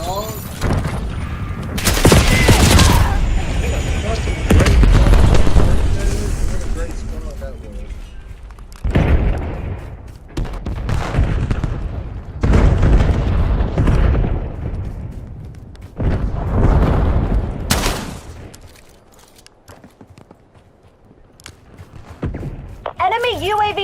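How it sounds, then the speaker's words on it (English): Cluster grenade blasts and gunfire in a multiplayer shooter: repeated heavy booms and thuds in several loud bursts, separated by quieter stretches, with rattling shots and a voice talking over parts of it. "Hostile cluster grenade."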